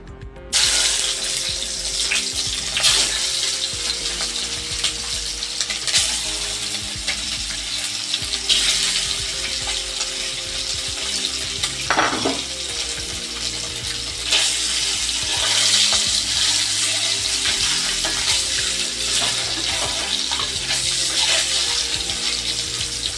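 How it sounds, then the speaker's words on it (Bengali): An egg fries in hot oil in a home kitchen pan, a steady sizzle and crackle running throughout with occasional louder bursts and utensil scrapes, no talking. "ডিমটা আমি একটু ভেজে নেবো।"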